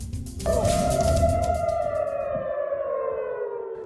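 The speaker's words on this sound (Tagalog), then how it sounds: "Pinatunog ang mga sirena sa Tel Aviv sa Israel nang namataan sa kalangitan ang mga nagliliparang tila bolang apoy." Air raid sirens wail over Tel Aviv, Israel, a loud sustained civil defence tone that steps up in pitch and then slowly falls away, heard with no voices.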